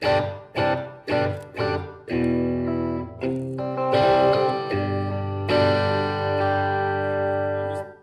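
Electric guitar through a Blackstar HT Dual distortion pedal, fed straight to a PA, plays a quick series of choppy chords, then lets heavier chords ring out and sustain with a thick, saturated tone.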